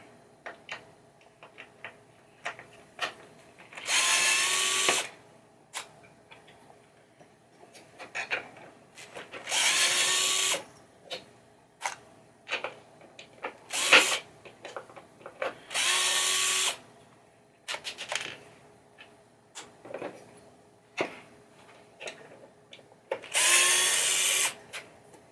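A power drill unscrewing screws from a 1980 Williams Firepower pinball playfield, with short whirring bursts of a few seconds each, repeated several times, separated by clicks, taps and rattling handling noises, close and without speech.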